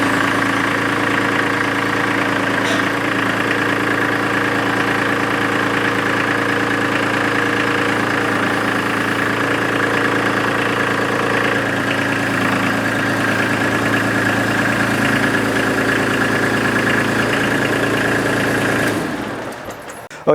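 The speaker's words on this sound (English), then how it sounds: "you're going to start up your tractor to line up into your snowblower" A garden tractor engine runs at a steady idle with a constant mechanical drone and a faint knocking rhythm. It stays loud and close for about nineteen seconds, then cuts off abruptly.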